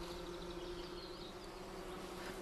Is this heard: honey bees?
yes